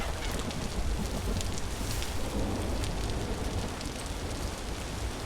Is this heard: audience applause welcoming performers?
no